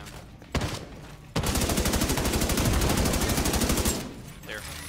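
A turret-mounted machine gun in The Division 2 fires one long, loud, evenly rapid burst lasting a few seconds, after a couple of single shots, then trails off into quieter game noise.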